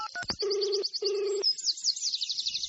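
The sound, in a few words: telephone dialing and ringing sound effect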